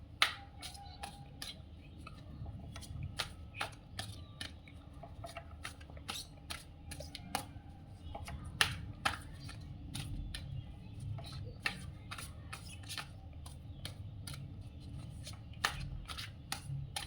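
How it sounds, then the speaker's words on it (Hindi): Tarot cards are shuffled steadily for a long stretch, soft crisp riffling and sharp little snaps recurring at an uneven rhythm, close and quiet against a faint low room hum, with no talking. "अभी मैं कार्ड सफर कर लेती हूँ इसको।"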